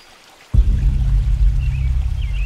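Strong rushing water on a river bank in the Philippines where typhoon damage swept away cottages; a loud, steady low roar that starts abruptly and continues unbroken, with no voices over it.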